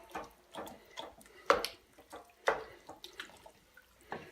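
Beef and broth go into a Dutch oven of simmering soup, heard as soft irregular splashes and drips, with two louder sloshes standing out among quieter liquid plops, close and fairly faint.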